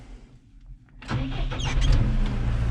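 A 112-horsepower tractor engine pulling a 13-shank chisel plough starts up after a quiet second and then runs with a steady low rumble, close and loud.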